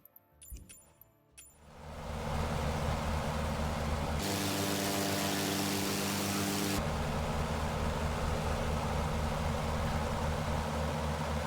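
Steady, continuous airplane engine drone from MS Flight Simulator 2024, a constant loud hum with a brief shift in tone midway, after a few clicks at the start; no talking.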